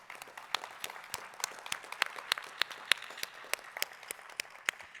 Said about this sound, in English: I'd love to just give another round of applause to Dean Lee Fisher.